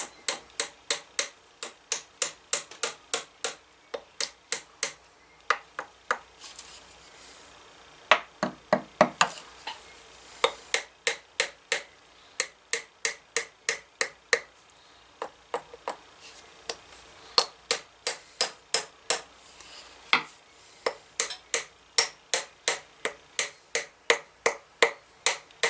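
Hammer blows drive wooden wedges into the slot cut in a vintage cobbler hammer's handle. The taps are sharp and close, coming in quick runs separated by short pauses, with no talking.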